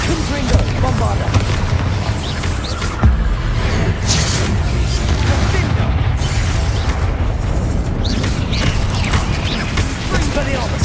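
Spell blasts from Confringo and Bombarda in the Hogwarts Legacy video game: continuous booming, rumbling explosions layered under battle sounds and game voice, loud and dense throughout.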